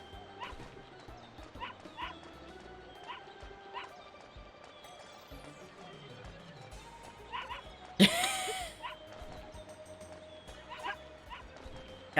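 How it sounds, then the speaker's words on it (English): Little dogs yapping in a video game, repeated short yaps scattered over tonal game music and effects, with a loud crash partway through. "watching me be chased around by little yap yap dogs"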